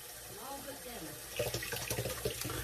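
Tap water running into a bowl, a soft pouring splash that starts midway and continues with bubbling, close and fairly quiet.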